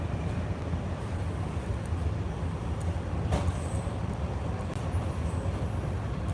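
A commuter train running at speed, heard from inside the car as a loud, steady rumbling roar with rattling and a few faint squeals, no one speaking.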